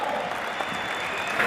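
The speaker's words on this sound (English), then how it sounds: "A round of applause for Mike Kostash," Audience applause at a crypto metaverse event welcoming a speaker, a steady wash of clapping from a crowd, even and moderately loud for a brief moment.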